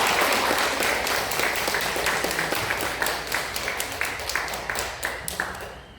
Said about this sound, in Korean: 우리 다시 한번 크게 하나님께 영광의 박수 올려드립니다